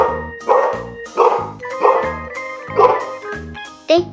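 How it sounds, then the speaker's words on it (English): A dog barks about six times in a loose rhythm, each bark loud, close and sharp, with brief quiet gaps between them. "It's a dog."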